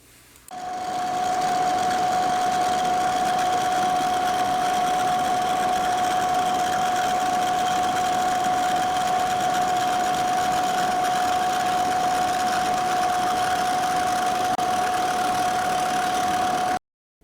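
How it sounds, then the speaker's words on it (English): A milling machine cuts across the bandsaw-cut bottom of a drill press vise, a steady whining hum with a strong sustained tone running unbroken and fairly loud from start to finish, with no talking. "I'll mill off the bottom of the vise where I cut it with a bandsaw"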